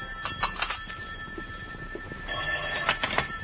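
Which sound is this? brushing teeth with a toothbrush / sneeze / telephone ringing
telephone ringing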